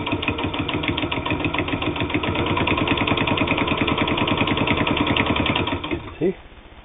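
A Janome New Home manual zigzag sewing machine stitches leather with a fast, steady mechanical chatter, close and loud, then winds down and stops.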